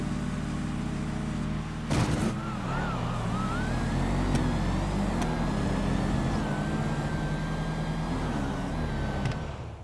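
Drag race cars, a GT and an Imperator, launch together at a no-prep street race, a loud sustained engine roar with a sharp burst near the start and rising revs throughout.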